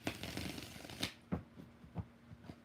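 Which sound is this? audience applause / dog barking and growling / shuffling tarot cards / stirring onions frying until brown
shuffling tarot cards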